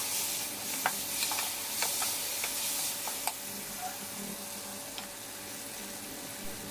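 Spices and ginger-garlic paste fry quietly in a pan, a soft steady sizzle broken by scattered clicks and scrapes of a spoon stirring, close and low in level.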